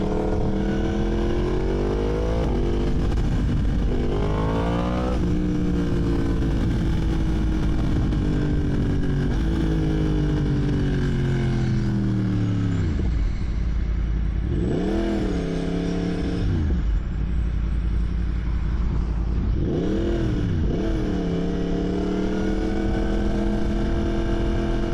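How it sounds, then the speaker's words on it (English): A motorcycle engine drones steadily up close while sitting in traffic on a mild day, pitch dipping and rising with a few revs and throttle blips over the constant road rumble. "I'm sitting in a bunch of traffic"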